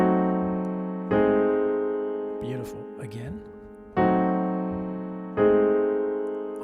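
Piano plays locked-hands diminished voicings, four rich sustained block chords struck one after another and left to ring, with a short spoken remark between the second and third chords.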